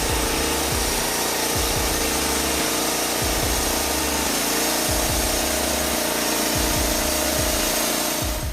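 A Norwood LM29 portable sawmill cuts logs with a loud, steady engine drone and a broad whine, close and dense, with rhythmic low pulses under the cutting noise and no voices.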